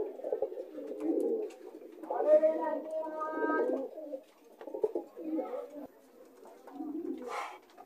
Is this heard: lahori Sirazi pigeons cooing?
yes